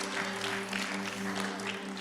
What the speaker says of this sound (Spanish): Dale una ofrenda de palmas a Jesús en esta hora